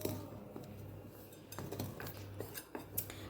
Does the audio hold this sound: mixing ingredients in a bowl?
yes